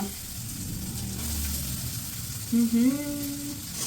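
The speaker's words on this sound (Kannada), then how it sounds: "ನಂತರ ನಾನು ಹಾಕ್ತಾಯಿದ್ದೀನಿ ಈರುಳ್ಳಿ. ಚಟಪಟ ಸೌಂಡ್ ಕೇಳಿಸ್ತಿದ್ಯಾ?" Chopped onion dropped into hot oil for a Kannada-style palak paneer tempering, giving a steady close sizzle and crackle with a brief louder burst near the end.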